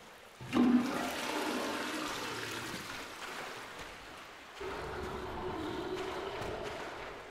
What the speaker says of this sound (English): What if I gotta lift up the toilets for the water to come out and the water level will raise?